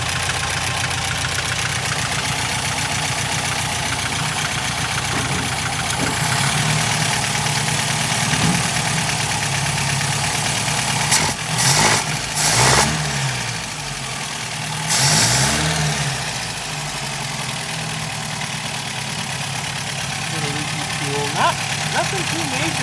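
A 1961 Sunbeam Alpine II engine idles with a steady, close rumble that holds throughout, broken midway by a few brief bursts of added noise, while a person talks over it.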